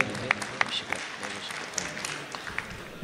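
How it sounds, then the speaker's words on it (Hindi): An audience at a mushaira poetry gathering claps, with scattered, uneven hand claps and a few sharp accents over a murmuring crowd, fairly quiet and thin rather than a full ovation. "एक बार जोरदार तालियां आप बजा दीजिए।"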